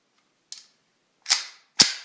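Retay Baron HK 9 mm P.A.K. starting pistol, a Turkish SIG Sauer P228 replica, being loaded with a blank cartridge: three sharp metallic clacks, a light one then two louder close snaps of the slide, with silence between.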